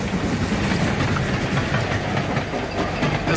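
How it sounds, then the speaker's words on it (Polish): Rumbling locomotive train passing with a heavy low roar and rhythmic rattling of cars, loud and close, continuous throughout. "Przerywa im jadąca na północ lokomotywa."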